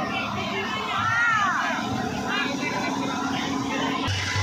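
Dense crowd noise at Chhath Puja in Sherghati, Bihar: many voices chattering and children shouting, with continuous busy hubbub close around.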